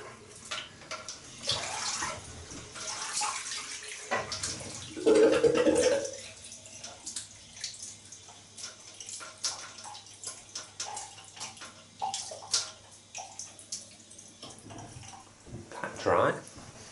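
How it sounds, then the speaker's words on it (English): Running tap water splashes and gurgles in a sink as a face is rinsed after shaving, with a few louder splashing bursts; someone talks in places. "Let's rinse."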